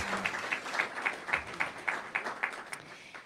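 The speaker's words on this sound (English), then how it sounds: "Applause, please." A modest audience at a mayoral forum in Providence claps in a regular, rhythmic pattern, the pulses evenly spaced and moderately close, fading slightly toward the end with no speech over it.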